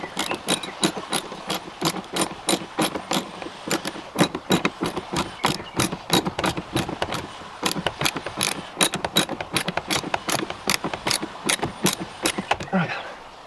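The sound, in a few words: tightening a fitting on a koi pond pipe valve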